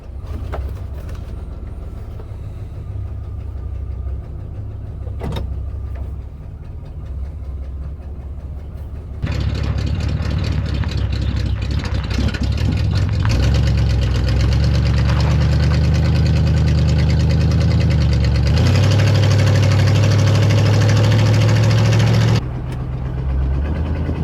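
An International pickup truck engine runs and idles with a steady low rumble and a slight knock, growing louder and rougher partway through before dropping back, with no talk over it.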